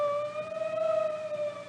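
An ambulance siren wails steadily with a long sustained tone and slight wavering, fairly loud and alone without any talk.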